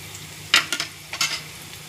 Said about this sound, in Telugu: ముల్లంగి ఫ్రై చేస్తున్నాను.